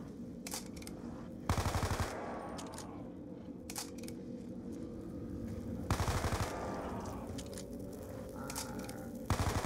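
An MP5 submachine gun fires in Call of Duty Black Ops 2 Zombies on the Town map, with three loud rapid bursts spaced several seconds apart and a low game ambience between them.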